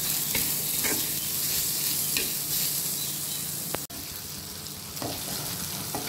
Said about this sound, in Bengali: নারকেলটাকে আমি একটু ঘিয়ে ভেজে নেব